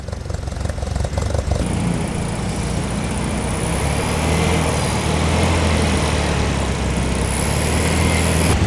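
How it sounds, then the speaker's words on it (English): Several air-cooled VW Beetle engines run together at a classic car show, a steady loud rattly drone with a faint high whine above it, continuous throughout with no talking. "a gaggle of VW Beetles here, making their air-cooled distinctive sound"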